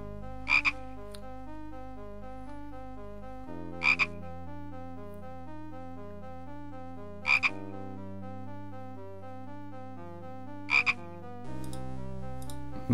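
A frog in the Simon the Sorcerer adventure game croaks in short paired bursts about four times at regular intervals, set over looping synthesized game music.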